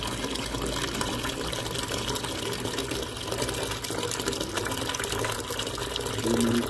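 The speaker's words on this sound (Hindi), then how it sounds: "ये मैंने पानी गिरा दिया है अपने हाथ वगैरह साफ करके" Water poured out after washing hands at a pigeon setup, a continuous splashing gush running steadily and close for several seconds.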